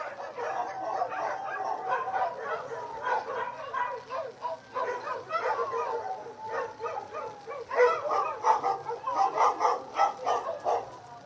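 Several dogs bark and yip together in an excited chorus, overlapping and continuous, with some whining mixed in.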